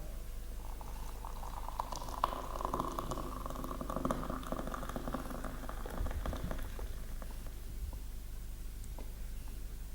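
Hot water poured from a kettle onto ground coffee in a cup, a steady liquid pour and fizzing bubbling that runs throughout at moderate, close level with no talking.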